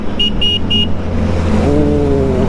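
A Honda CBR 650R superbike passing on a toll road, its engine note rising then fading with a rising whine, heard among other traffic and a few short horn toots.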